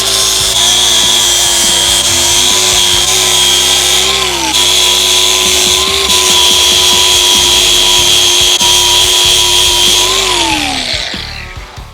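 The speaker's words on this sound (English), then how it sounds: "We're gonna switch to a little bit heavier for the grinding here." A power grinder working metal on a Harley-Davidson Sportster being chopped for a flat track conversion, a loud close whine with steady harmonics that dips in pitch under load, briefly spinning down near the end.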